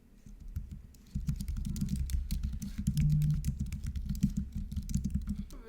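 Typing on a computer keyboard, a quick irregular patter of close key clicks that starts after a brief pause and keeps going steadily over a low background hum.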